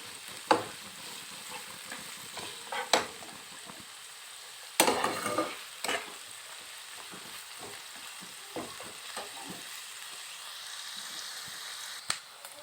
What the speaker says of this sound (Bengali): কুচি কুচি করে রাখা পেঁয়াজ পেঁয়াজটাকে একটু লাল করে নেবো